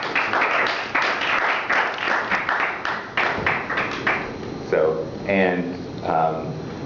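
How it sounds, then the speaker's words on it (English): A crowd claps steadily for several seconds, a dense patter of many hands, before a voice starts speaking over the fading applause. "Here's a big clap for them."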